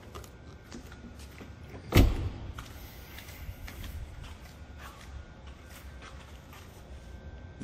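A single solid thud of a 2021 BMW X3's car door shutting close by in a parking spot at night, followed by quiet outdoor background noise.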